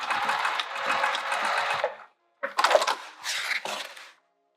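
A sewing machine stitches a zipper pouch made from an upcycled skirt in two short bursts of rapid mechanical whirring with a pause between, close and fairly quiet.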